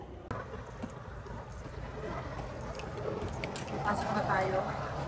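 Keys jangle while a door is unlocked on arrival home after a walk from work, a light metallic rattle under nearby voices and outdoor noise.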